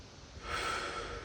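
Slow, deep exhale through the nose and mouth during a calming breathing exercise, a soft rushing breath that swells midway and trails off, close and alone.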